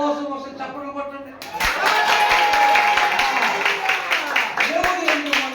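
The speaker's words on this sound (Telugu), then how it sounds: "సంతోషంగా ఒకసారి చప్పట్లు కొట్టండి" A church congregation breaks into loud, sustained applause that begins abruptly after a voice and continues steadily, with a few rhythmic claps and cheers in the crowd.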